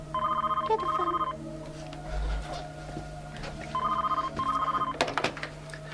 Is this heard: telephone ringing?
yes